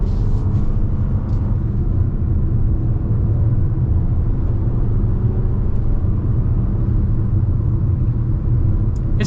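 A 2025 Toyota RAV4 XLE Premium with a four-cylinder engine accelerates, giving a steady, loud low rumble of engine and road noise heard from inside the cabin, with no talk.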